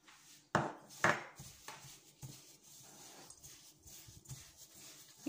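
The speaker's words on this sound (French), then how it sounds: "Je mets le beurre et je mélange bien." Melted butter being mixed into speculoos biscuit crumbs for a cheesecake base, with two sharp knocks near the start followed by softer scraping and stirring taps, close and quiet with no talking.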